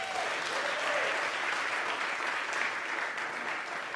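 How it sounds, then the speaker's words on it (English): An audience gives a warm round of applause to welcome a jazz singer to the stage at a live concert, dense and sustained clapping close by throughout, with no talk over it. "So we welcome her to the stage with a big round of applause."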